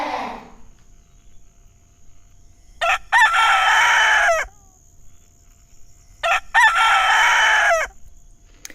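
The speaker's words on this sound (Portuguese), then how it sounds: "Galo." A rooster crows twice, loud and close, each crow a long strained call, with quiet gaps between and a brief soft noise at the very start.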